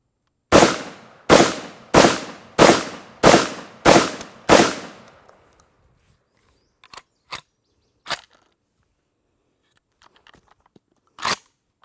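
Vepr 12 shotgun firing Winchester ammunition: six loud, evenly spaced blasts in quick succession with ringing tails, then a few sharp metallic clicks and clacks of the action locking back on an empty magazine.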